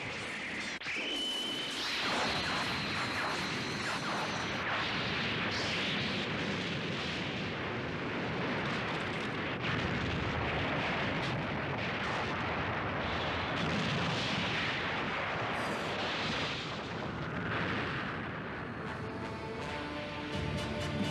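In the Space Battleship Yamato II anime, the wave motion gun fires and explodes in a long, loud, roaring blast with crackling bursts that rumbles on for about twenty seconds.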